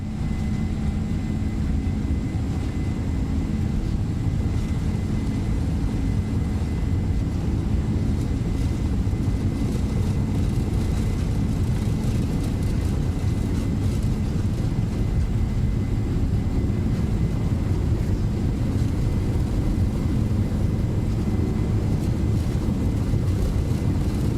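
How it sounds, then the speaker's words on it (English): A Boeing 767-F freighter's engines roar at takeoff thrust during the takeoff roll in a flight simulator, a steady, loud, broadband rumble with no letup for the whole stretch. "Takeoff thrust is set. 80 knots."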